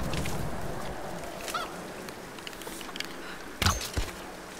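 A chicken in the Tomb Raider Game of the Year Edition game gives a few short honking clucks, faint and sporadic, over a steady ambient backdrop with no speech.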